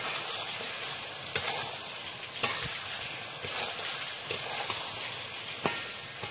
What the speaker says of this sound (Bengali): এখন পটলগুলো দিয়ে দিব।